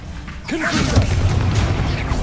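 Confringo blast in Hogwarts Legacy: after a brief quiet, a loud swooping magical whoosh bursts into a crackling fiery impact that rumbles and sustains to the end.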